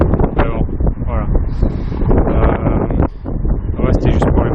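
Strong wind on the Golden Gate Bridge buffets the microphone in loud, rumbling gusts that run through the whole clip, with a person talking over the roar.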